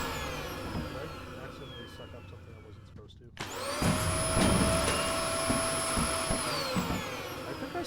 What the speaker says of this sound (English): This is one heck of a vacuum cleaner.